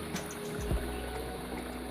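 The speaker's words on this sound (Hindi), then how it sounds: "ये पहाड़ के ऊपर से आ रहा है पानी। ठीक है, ये पानी की आवाज़ से आपको पता चल रहा होगा।" Water runs down the mountainside at Bruti waterfall near Islamabad, a steady, moderately close rushing flow heard throughout with a brief low thump early on.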